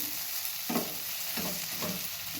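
Okra curry with dal and coriander is stirred in a sizzling pan, with three or four distinct close scraping strokes over a continuous frying hiss.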